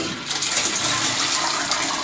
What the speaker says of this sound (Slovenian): Jaz predlagam, da še enkrat pustimo dol vodo s polnim šalterom.